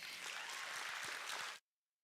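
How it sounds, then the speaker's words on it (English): At a school board meeting, an audience applauds a state runner-up school team with dense, even clapping for about a second and a half before it cuts off to silence. "that certainly deserves a round of applause"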